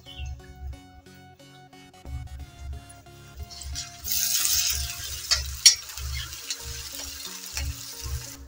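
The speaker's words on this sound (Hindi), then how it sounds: "दोस्तों हम अपने प्याज को अच्छे से सौते करेंगे, अच्छे से इसको फ्राई करेंगे।" Onion with ginger-garlic paste fries in a pan for a bhindi do pyaza, with soft sizzling and repeated low scraping stirs of a spoon, the sizzle swelling louder midway, close up and without talk.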